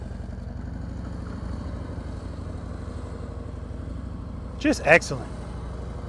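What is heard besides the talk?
motorcycle engine running smoothly at slow speed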